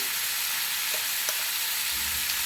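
Spices sizzling in hot oil in a pan while cooking sabu khichuri, a steady, bright frying hiss with a couple of faint stirring clicks, heard alone without talk.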